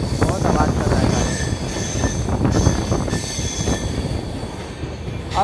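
Steady metallic screech of train wheels squealing on the Mumbai to Nashik line through the ghat section, sustained over a heavy rolling rumble of the coaches, loud and close with no talking.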